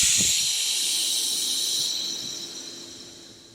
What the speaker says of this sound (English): Start by bleeding the air spring off. Just push that little button in.